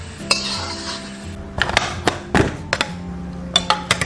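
Fried scallion, ginger and garlic tipped out of a wok, with several sharp metallic clanks and scrapes of the pan and utensil against a bowl, close and alone.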